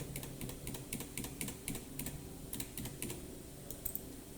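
Keys on a computer keyboard, including the Tab key, are tapped in a quick string of light, close clicks in irregular bursts, faint and alone.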